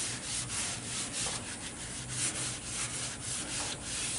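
Steady rubbing and wiping along the sides and edges of a Blackstone griddle during seasoning, a continuous close scrubbing texture with soft rhythmic strokes throughout and no talk.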